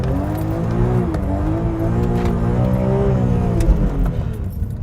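A BMW E46 M3 pulls away and accelerates hard, its engine note rising steadily through the revs, loud and close, with no talk over it.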